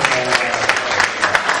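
Applause from a seminar audience on parenting, with children present, a steady dense patter of clapping from many hands sustained throughout, with faint crowd murmur underneath.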